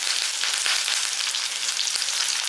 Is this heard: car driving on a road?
no